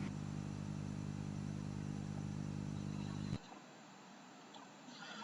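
Steady, dense engine drone from a two-stroke engine shown running in an educational animation, loud and continuous for about three seconds before cutting off abruptly and leaving a quieter, fainter background hum.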